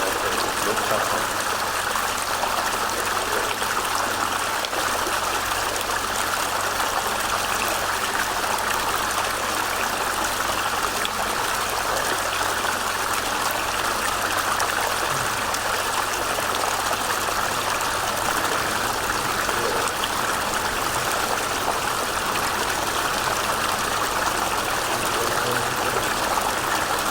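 Green tea bath water at a Korean jimjilbang spa pours and flows steadily, a loud, continuous rushing wash that fills the whole stretch without a break.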